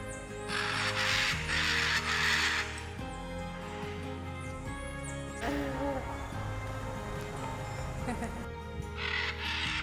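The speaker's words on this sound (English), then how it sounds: "But the macaws, never seen them fly so much." Macaws calling from trees in Jiménez, Costa Rica: loud, harsh raucous squawks in bursts near the start and end, over a continuous buzz of insects and birdsong.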